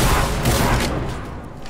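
Enemy rocket launcher fire in Fortnite Save the World, a dense rumbling barrage of blasts that rolls on continuously before easing off slightly.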